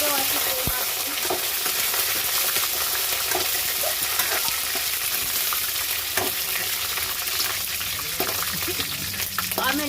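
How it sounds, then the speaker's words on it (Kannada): Curry leaves frying in hot oil in a pan give a steady, dense sizzle that crackles continuously throughout, close and fairly loud, with faint stirring scrapes and no talking. "ಕರಿಬೇವು ಹಾಕಿ ಫ್ರೈ ಮಾಡಬೇಕು."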